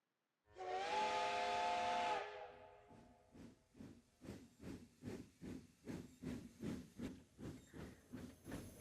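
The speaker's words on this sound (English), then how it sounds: "The train gradually becomes smaller. So too does the whistle fade." A steam train whistle from the game Code Realize blows loud and steady for about two seconds, then cuts off into a rhythmic chuffing that pulses evenly, with no voices.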